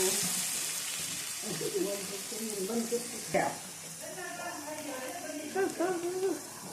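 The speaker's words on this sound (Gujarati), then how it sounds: "હવે આપણે 1 નાની 2 ડુંગળી સુધારી છે એ નાખી દેશું. એને આપણે થોડી સાતળવા દેશું." Two small chopped onions sizzle and fry in a pan for a Gujarati tuver na thotha dish, a steady moderate hiss running beneath someone talking.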